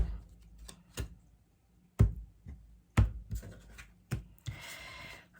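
Tarot cards are handled and shuffled with sharp taps and knocks, ending in a brief papery riffle; no one speaks.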